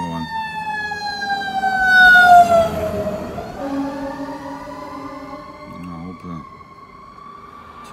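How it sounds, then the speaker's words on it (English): Sirens of two fire trucks pass close by, a loud wailing tone that swells, drops sharply in pitch as the vehicles go past, then carries on more steadily over a low engine and traffic rumble. "Two fire trucks. That's not good."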